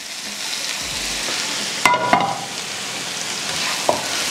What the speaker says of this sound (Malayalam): നമ്മുടെ മത്തി വറുത്ത എണ്ണ നമുക്ക് ഗ്രേവിയിലോട്ട് ഒഴിച്ചു കൊടുക്കാം.